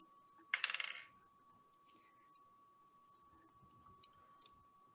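Dice clatter briefly across a tabletop during a tabletop role-playing game, a quick cluster of close, sharp rattling clicks near the start that stops abruptly, followed by quiet room tone and a steady faint electronic hum.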